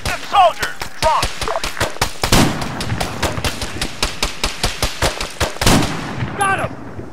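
Gunfire in a city battle: rapid bursts of automatic fire and scattered loud shots crack close by, with a rhythmic run of reports in the middle and voices shouting under the firing.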